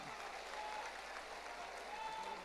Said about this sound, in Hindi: तालियों की गड़गड़ाहट से इनका हम उत्साहवर्धन करेंगे